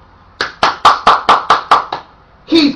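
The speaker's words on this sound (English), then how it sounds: "he's clapping his hand." A man claps his hands seven times in a steady, even rhythm, each clap close and crisp, followed by a brief different sound after a short pause.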